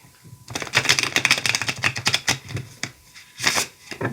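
A tarot card deck is shuffled by hand in a quick run of crisp, rapid riffling flicks and taps up close, pausing briefly before a final burst.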